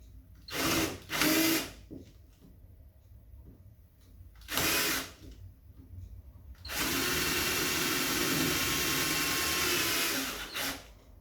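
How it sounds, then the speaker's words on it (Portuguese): A power drill with a 5 mm bit widens a hole in marine plywood scrap, running in short whirring bursts and then one long steady grinding drill run, close and loud. "Agora uma broca de 5, aí eu vou alargar aqui."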